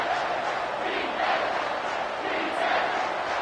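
Stadium crowd in a college football video game, Buffs against Wildcats on third down, a loud continuous roar of massed voices with swelling chants, dense and unbroken throughout.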